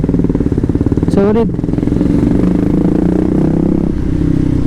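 A Raider 150 Fi motorcycle with a remapped stock ECU revs sharply, its engine note climbing quickly before settling into a steady, loud drone, with someone talking over it.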